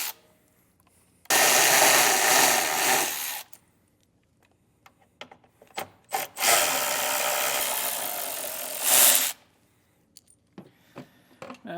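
Two sustained bursts of a power tool driving out taillight screws with a T30 Torx bit, with an 8mm socket used for a small lower screw, each run lasting a few seconds, close and loud, separated by quiet clicks and handling noises.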